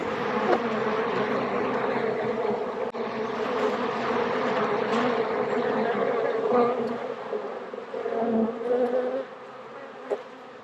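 Steady, dense buzzing of a honeybee colony in an open hive at a growing apiary after a swarm catch, a close, continuous hum that stays loud throughout with slight swells near the end.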